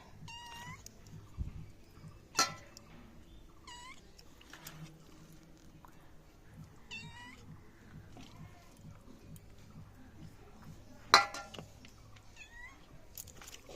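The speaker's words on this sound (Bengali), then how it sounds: "বিড়াল এসছে" A cat in a home kitchen gives several short, fairly faint meows spread across the stretch, with occasional sharp clinks and knocks of fish being arranged for patori nearby.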